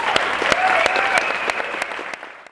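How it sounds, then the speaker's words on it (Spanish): Loud audience applause closes a talk on invisible radiation, a crowd clapping with sharp individual hand claps standing out over the wash, tapering off at the end. "un aplauso fuerte para todos"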